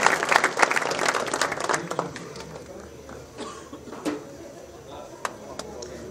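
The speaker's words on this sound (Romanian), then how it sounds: "Haideți cu un rând de aplauze să-i încurajăm" Audience at a Dynamite Fighting Show weigh-in in Targu Jiu applauds a fighter stepping off the scales, with dense clapping and a cough at first that thins into scattered claps.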